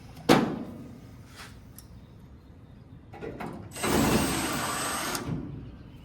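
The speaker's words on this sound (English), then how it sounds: "I put 2 screws here in the corner, so let's just go ahead and put those back in" A screw is driven back into a corner of a car trunk gutter. There is a sharp tool click, some quieter clicks, and then a steady whirring drive lasting a little over a second, up close.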